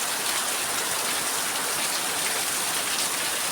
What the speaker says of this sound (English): See the heavy rain.